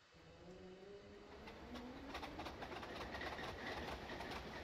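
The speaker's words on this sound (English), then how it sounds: "I think we'll start our engine, see what the sounds are like." Class 24 diesel locomotive engine starting up in Train Simulator: a low drone rises and swells steadily over a few seconds into a loud, rough idling rumble with a climbing tonal hum.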